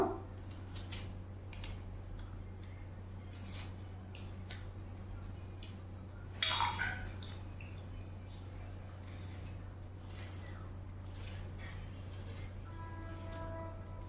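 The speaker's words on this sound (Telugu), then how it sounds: "ఉల్లిపాయ కట్ చేస్తున్నానండి" An onion is cut for a tempering, heard as a series of faint, close knife ticks on a board over a steady low electrical hum, with one louder chop near the middle and no talking.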